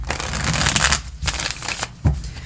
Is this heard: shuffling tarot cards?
yes